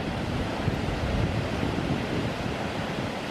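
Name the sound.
Sambuyeon waterfall in Cheorwon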